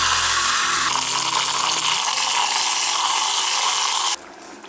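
Mustard seeds, a dried red chili and curry leaves hitting hot oil for tempering, a loud, dense, steady hiss of sizzling close up that cuts off abruptly near the end.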